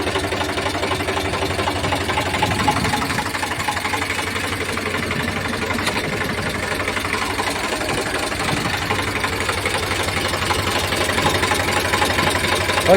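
An Eicher 368 tractor engine in showroom condition runs steadily close by, a loud chugging idle with rhythmic knocking and vibration, no talking.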